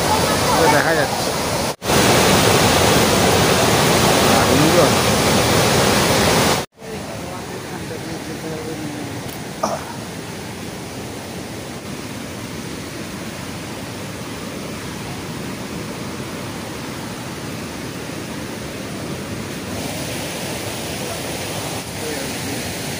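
A steady, loud broadband roar of a waterfall fills the scene in the Ajodhya hills, continuous throughout with a couple of brief dropouts and faint handling bumps.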